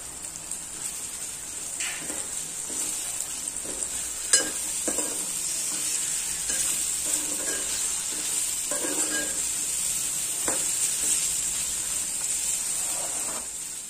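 Bitter gourd frying in a pan with ginger stirred in, giving a steady close hiss of sizzling oil throughout, broken by occasional scrapes and taps of the stirring spoon, with no talk.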